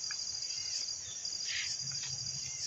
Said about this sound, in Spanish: las chicharras están a full hoy